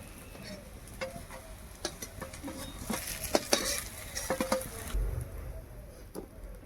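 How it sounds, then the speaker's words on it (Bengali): Elephant foot yam fritters fry in hot oil, giving a soft, steady sizzle broken by sharp clicks and scrapes as they are turned over in the pan. "এইভাবে এটাকে উল্টি পাল্টি বেশ ভালোভাবে ভেজে নেব"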